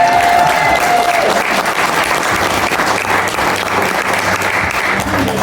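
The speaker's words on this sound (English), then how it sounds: "Let's have a round of applause." Loud, sustained applause from a theater audience in Tombstone, Arizona fills the whole stretch, steady clapping with a faint murmur of voices underneath.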